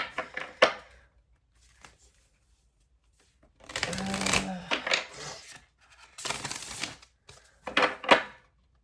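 Crisp riffling bursts of cards being shuffled, three or four quick rounds separated by short pauses, close and fairly loud.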